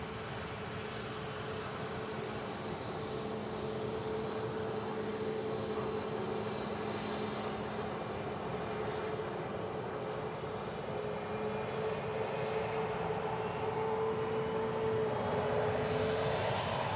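An aircraft takes off from the south runway at Manchester Airport, heard from the north-side runway visitor park as a steady, broad jet roar with a sustained engine whine that holds and slowly swells over the whole stretch.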